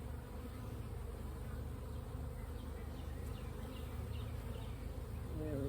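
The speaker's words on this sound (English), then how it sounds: "of good looking bees, a lot of brood on both sides." A honey bee swarm buzzes steadily as frames are moved into a permanent hive, a dense, continuous drone of many bees that stays close and even throughout, with no talk.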